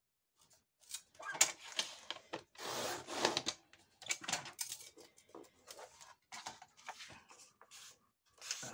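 A paper trimmer with a worn, dull blade slices through card in a series of short, scratchy rasping strokes, with uneven pauses between them, close and fairly quiet.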